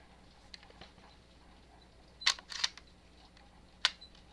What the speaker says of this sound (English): And then you drop the bolt.